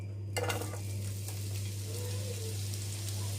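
Onion fries in olive oil in a pan over high heat, a steady close sizzle with scraping and clinks of a utensil stirring against the pan.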